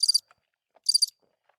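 Cricket chirps come in two short, high trilled bursts separated by a pause, crisp and close against near silence, with no voices.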